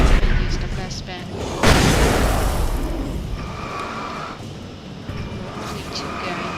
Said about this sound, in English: now is when we use the flashbang